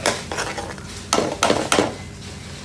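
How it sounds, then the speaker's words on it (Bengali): Curry base being stirred and sautéed in a pan in an Indian restaurant kitchen, with a utensil scraping and clanking against the metal in several sharp bursts over a steady background sizzle. "এগুলো দিয়ে এটাকে ভালো করে কষিয়ে নেব 2 মিনিট"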